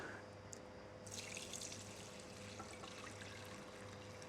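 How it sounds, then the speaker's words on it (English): Liquid from a pot-roasted chicken strained into another pot, a faint, steady pour and trickle over low kitchen hum, thickening into a splashy stream after the first second. "And then we're going to strain this into another pot."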